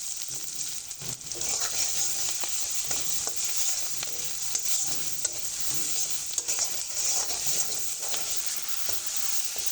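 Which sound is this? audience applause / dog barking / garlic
garlic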